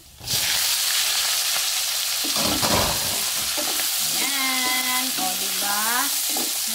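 Shrimp hit a hot pan of butter and garlic with a loud, continuous sizzle while being stirred, and a brief whistling, voice-like tone rises near the end.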